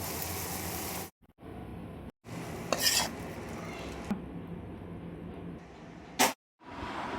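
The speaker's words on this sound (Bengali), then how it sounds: "এবারে আমরা চচ্চড়িটা একটি পাত্রে ঢেলে নেব।" Chuno fish bati chorchori with bori being scraped from a pan into a bowl, a few utensil scrapes and clinks with a sharper knock near the end, broken by brief silent gaps.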